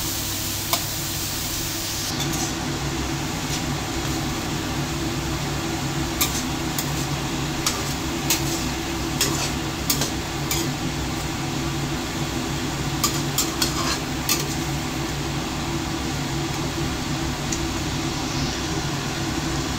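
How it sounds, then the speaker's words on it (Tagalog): Tomato sautéing and being mashed in a pan while cooking a tomato egg drop soup: steady low sizzle throughout, with scattered light clicks and scrapes of a utensil against the pan, no talking. "then saka natin igisa yung tomato"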